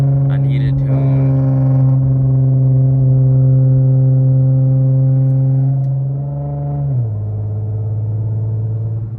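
Infiniti Q50 3.7 with a loud exhaust droning steadily while driving, a deep sustained tone that holds near and loud, then dips in pitch as the car shifts near the end.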